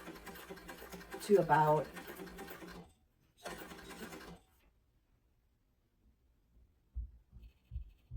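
A sewing machine top stitches the long sides of a fabric sling bag in a short whirring burst that stops, runs again briefly and falls quiet, followed by faint knocks while a person talks.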